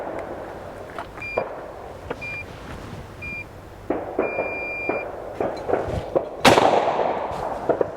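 A single sharp gunshot bang rings out near the end, after a stretch of light clicks, taps and short electronic beeps, and is followed by a brief ringing decay.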